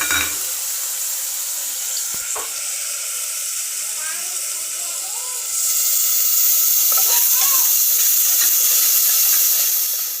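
A paste of garlic, ginger and chili powder fries in a pot for mutton biryani, giving a steady, close sizzling hiss that grows louder partway through.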